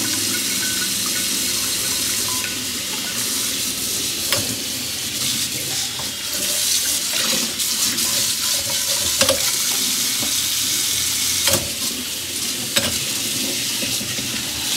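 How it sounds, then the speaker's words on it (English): Tap water runs over a hot cast iron pan to cool it, giving a continuous splashing, hissing sizzle with scattered clinks and knocks, loud and close, with no speech. "Now we use the water to slowly cool it down."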